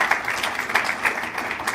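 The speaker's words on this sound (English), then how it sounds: "So please give Brevard a round of applause" Brief burst of applause from an audience of students and teachers at a breakfast event, a crowd clapping steadily and fairly close for under two seconds.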